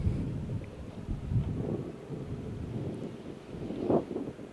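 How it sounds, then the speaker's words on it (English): Wind gusts at a mountain lake campsite, buffeting the microphone as a low, steady rumble that swells and fades with a stronger gust near the end, with no talking. "This wind keeps blowing me around."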